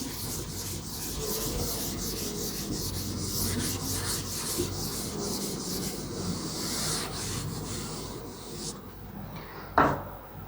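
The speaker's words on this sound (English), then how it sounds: "Okay, I can rub this equation." An eraser rubs an equation off a board in a steady, continuous scrubbing stroke lasting several seconds, ending with a short knock.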